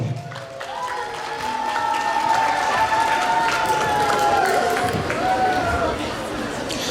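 Audience at a dance competition award ceremony for ages 12 to 14 claps steadily in a hall, sustained applause carrying under crowd chatter while a voice speaks over it.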